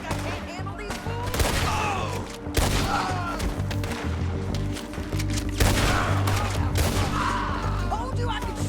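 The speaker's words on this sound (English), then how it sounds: "Told you I could shoot a gun" A gunfight in Red Dead Redemption 2 in the state of Lemoyne, with dense bursts of rapid gunshots and heavy thuds rolling on without pause, mixed with a low background score.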